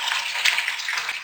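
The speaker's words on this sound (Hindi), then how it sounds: "चिकन डालकर मैं इसे 1-2 मिनट फ्राई करूंगी कि इसका कलर चेंज हो जाए" Chicken pieces with onion and ginger-garlic paste sizzle steadily in a frying pan, a continuous close crackle of hot oil with no talking.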